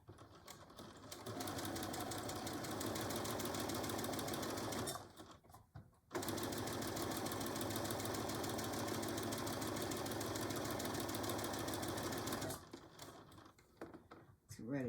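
A sewing machine stitches a Betty Boop pillow cover, running in a fast, steady mechanical whir for several seconds, pausing briefly, then running again for a longer stretch before stopping.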